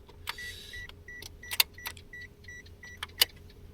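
Rental car interior at the end of an Okinawa drive, with faint clicks, clunks and repeated chime-like beeps as someone gets in, quiet and close, no talk.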